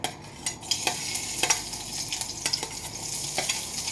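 Garlic sautéing in a pan of coconut oil with green chillies, a steady soft sizzle broken by repeated scraping stirs and brief clinks, close by with no voices.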